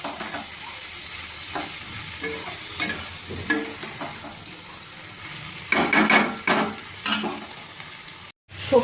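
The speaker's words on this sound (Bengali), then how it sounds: "হলুদ গুঁড়ো আর জিরে গুঁড়ো দিয়ে আমি সবজিটাকে আবার ভালো করে ভেজে নেব" Pumpkin, eggplant, pointed gourd and ivy gourd fry with turmeric and cumin powder in a pan. A steady close sizzle carries scraping stir strokes, with louder bursts of spatula clatter toward the end and no talking.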